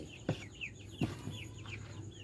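Young laying-hen chicks in a nursery brooder, giving repeated high peeping chirps with a few lower clucks, near and fairly steady throughout.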